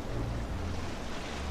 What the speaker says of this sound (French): Pourquoi y'a beaucoup de vagues là?